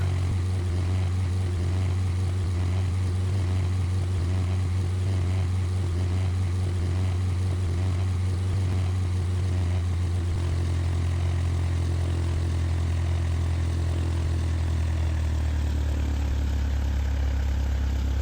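A light propeller aircraft engine in the video game PTFS: Pilot Training Flight School drones steadily at idle while taxiing, its pitch shifting slightly partway through and settling lower toward the end.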